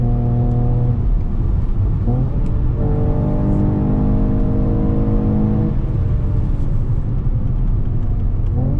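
A 2021 Mercedes E53 AMG Cabriolet engine growls loud and close on a hill road, stepping down through quick paddle-shifted downshifts with each gear change lifting the pitch before it steadies again.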